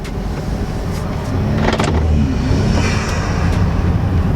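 BMW F30 with a new aftermarket intake driving along, a steady loud engine and road drone that swells slightly partway through, heard from inside the car.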